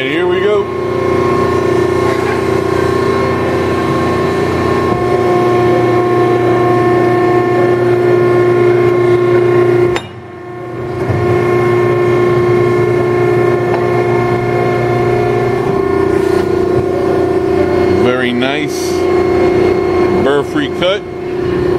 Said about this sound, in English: Here we have a 80-ton Uni-Hydro hydraulic ironworker.